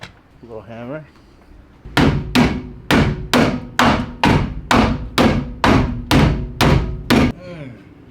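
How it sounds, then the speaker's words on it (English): About a dozen sharp blows from a small hammer struck at a steady, quick rhythm, loud and close, after a brief moment of a voice. "Little hammer."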